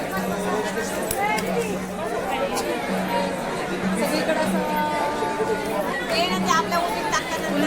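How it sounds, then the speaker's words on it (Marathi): Dense crowd chatter at Tuljabhavani temple in Tuljapur, a steady babble of many voices close by with scattered louder speakers throughout. "खूपच गर्दी आहे"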